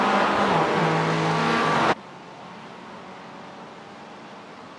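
Mazda MX-5 race cars roar at Sebring in a sim racing game, a loud, dense engine and tyre noise that cuts abruptly to a much quieter background hum partway through.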